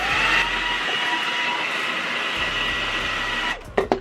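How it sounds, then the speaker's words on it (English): Hair dryer blowing steadily on natural leave-out hair, a loud continuous broadband whoosh with a constant whine that runs for several seconds, then cuts off into a few brief handling knocks. "I'm gonna blow dry this"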